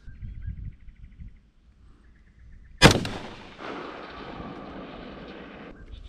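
A single sharp rifle report from a Stag 15 rifle topped with a Vortex Strike Eagle scope cracks loud and close, followed by a long rolling echo across an open range; faint birdsong is heard beforehand.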